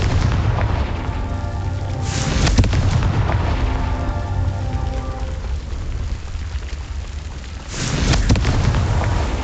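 A Confringo fire spell blasts off in Hogwarts Legacy, sounding as two loud booming explosions, one about two seconds in and another near the end, with a sustained rumbling roar between them.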